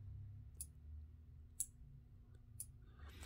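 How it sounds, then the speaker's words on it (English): Three sharp, faint clicks from a relay in a Harry Potter wand prop setup arrive about once a second over a low hum, evenly spaced as it switches on and off. "this relay here does make a clicking sound"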